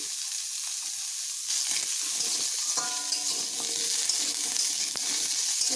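Pumpkin pieces fry in a pan with a little salt, giving a steady, close sizzle that grows a bit louder partway through, with faint stirring clinks and no talking.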